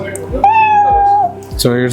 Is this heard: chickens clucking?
no